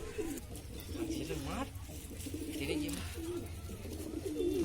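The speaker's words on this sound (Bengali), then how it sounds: "আবার উঠে গেল বন্ধুরা কবুতরটা।" A pigeon coos in low, rolling phrases several times after flying up to a wall, set against steady outdoor background noise.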